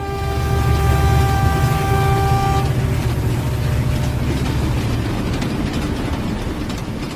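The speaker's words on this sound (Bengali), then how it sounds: "ঠিক কিছুক্ষণ পর ট্রেনটি ধীরে ধীরে আমাদের গন্তব্যস্থলে এসে থামল।" Train slowly pulling into a station, a loud rumbling roll with a sustained multi-tone horn blast over the first few seconds, then steady heavy wheel and engine noise.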